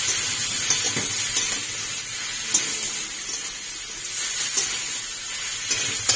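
Chopped onion frying in hot oil in a home kitchen pan, a steady close sizzle with occasional soft scrapes of stirring, no voices.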